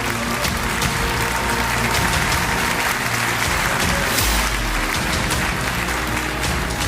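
A large audience at a product launch event claps loudly and steadily, a dense continuous wash of applause that holds at full strength from start to finish.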